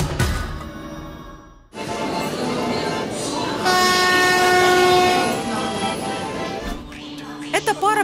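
A double-decker passenger train on the new line from St. Petersburg to Crimea rumbles loudly past with clattering wheels, then a long, steady horn blast rises over the din. Faint voices may mix in with the noise.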